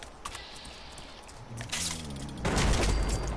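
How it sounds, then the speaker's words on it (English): Thirstceptor gun fired in the video game Fallout 76, a rough burst of noisy blasts building to a louder, denser roar toward the end over game ambience. "you're all ready to see how this Thirstceptor gun works?"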